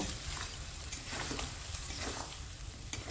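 Chicken sizzles steadily in a pan with yogurt and salt as it is sautéed for a restaurant-style chicken do pyaza, a soft continuous frying hiss with faint stirring scrapes and no voices.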